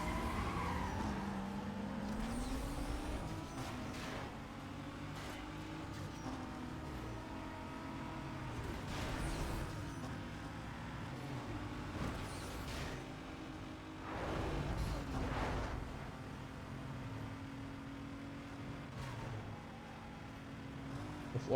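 A car racing in the Need for Speed Most Wanted video game, with its engine droning and climbing through repeated revving surges and occasional tire squeals, steady and loud for a long stretch while a voice speaks faintly at times.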